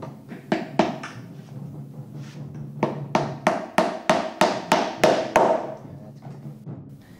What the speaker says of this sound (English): hammers in the first tack.